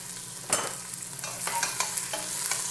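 Garlic and onion sautéing in a pan for chicken bopis, with a steady sizzle broken by a few sharp stirring scrapes and bursts, close and fairly loud.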